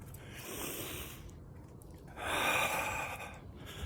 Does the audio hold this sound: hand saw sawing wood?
no